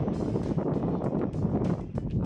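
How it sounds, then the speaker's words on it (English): Wind of about 15 miles per hour buffets the microphone at an outdoor flying field, a steady loud rumbling roar with gusty swells and no clear voices. "It is windy."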